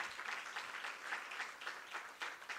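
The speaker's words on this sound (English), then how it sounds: "Can we clap our hands for the pioneers?" A round-table audience at an International Women's Day event claps steadily for the pioneers, a faint, even patter of many hands from a distance.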